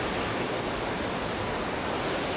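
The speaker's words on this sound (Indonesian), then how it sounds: "Kita menyeberangi sungai guys. Sungai yang cukup lebar ya ini. Jeram-jeramnya juga unik sih." A wide river with rapids, its water rushing as a steady, dense roar that fills the whole stretch without a break, heard up close while crossing.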